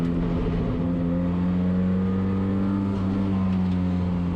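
A 1990 Mazda Miata race car with a K-swap engine at a racetrack, heard from inside: a loud, steady engine drone with a strong low hum and no clear revving changes, with no talking.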